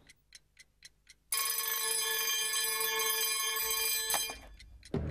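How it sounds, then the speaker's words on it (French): A bright, harsh alarm clock bell rings loudly and steadily for about three seconds, then cuts off, after several faint ticks; no one speaks. "Est-ce que tu as un réveil ?"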